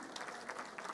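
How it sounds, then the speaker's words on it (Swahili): Audience clapping at an iftar dinner gathering, a brief, faint patter of many hands heard from a distance. "please, round of applause for Sheikh Abdullah Abdi."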